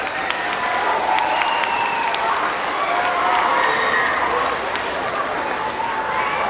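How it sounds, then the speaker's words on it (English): An audience applauds after a school spring concert, with a continuous wash of many hands clapping at an even, loud level and a few faint whistles or voices rising over it. "let's give them one more round of applause"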